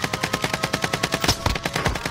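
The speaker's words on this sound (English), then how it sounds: "Receiving hostile fire." Hostile automatic gunfire in a shooter video game, a fast steady burst of rapid evenly spaced shots, loud and close, continuing without a break.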